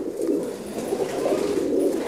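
Malay breed pigeons coo continuously at close range, a low rolling, throaty murmur that swells and fades in overlapping waves with no speech.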